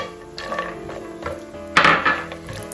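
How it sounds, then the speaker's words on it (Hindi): Cashews tipped into a frying pan while nuts are being roasted for dry fruit laddu: soft clinks and light rattles against metal, with one sharper clatter as they land, then a brief scrape. "अब हम लोग इसके अंदर डालेंगे अपने काजू।"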